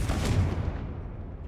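A Confringo fire-blast spell cast in Hogwarts Legacy, heard as a loud booming burst that rolls into a fading rumble over about a second and a half, with no talk.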